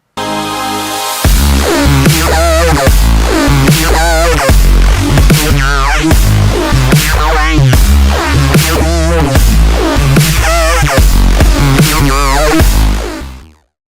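A heavy, growling synth bass, made in Massive, plays a rhythmic pattern of punchy notes, wobbling and buzzing, loud and alone until it cuts off.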